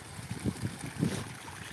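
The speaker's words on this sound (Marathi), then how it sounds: "बोरमधून पाणी चालले डायरेक्ट" Faint, steady gush of water flowing out of a borewell with a low rumbling wash, distant and muffled.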